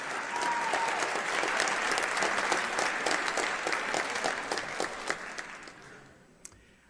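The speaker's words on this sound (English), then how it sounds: "Another hand of applause for all of our winners" A large audience at an arts awards event applauds its winners, a steady roar of many hands clapping that holds for several seconds, then thins out and fades, ending with a few scattered claps.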